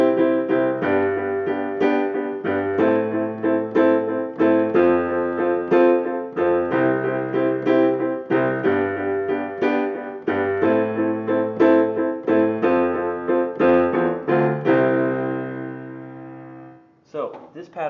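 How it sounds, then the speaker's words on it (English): Piano plays a 1950s-style doo-wop accompaniment in 6/8 time, steady repeated chords over low bass notes in a lilting rhythm for about sixteen seconds, close and clear, ending with a brief unrelated sound. "This is called the doo-wop pattern,"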